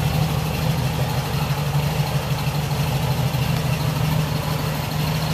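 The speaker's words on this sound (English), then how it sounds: "That's a cold start, as cold as I can get it" A 1957 Becks Speedster idling right after a cold start in chilly conditions, a steady low throbbing engine rumble, close and even throughout with no talk.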